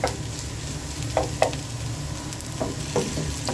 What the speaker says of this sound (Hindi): इसको अच्छी तरह इसको ऑयल में तो फ्राई कर लेंगे प्याज को